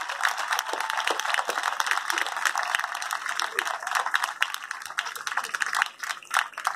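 Audience applause at a Russian ballet show in Buenos Aires, dense sustained clapping from a large crowd that fills the room evenly and continues with steady intensity throughout.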